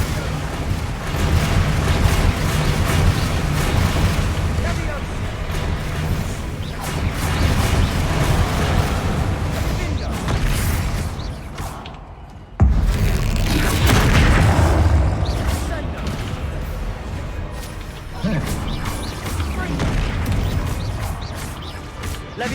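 Bombarda explosion spells in a Harry Potter video game: loud, dense booming blasts and crashing debris rumble continuously, with a sharp cut midway before another heavy burst.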